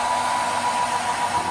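A hair dryer blows in a steady, close, unbroken rush of air, drying a wet Samsung S24 FE phone.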